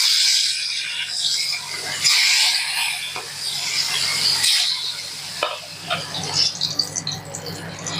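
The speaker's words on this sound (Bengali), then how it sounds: "এই তেলের মধ্যেই একই পদ্ধতিতে বাকি মাছগুলো আমি তেলের মধ্যে দিয়ে দেবো।" Rohu fish pieces frying in hot oil, a steady broadband sizzle and crackle that swells and settles in bursts, close and fairly loud, with occasional clinks and stirring sounds and no talk.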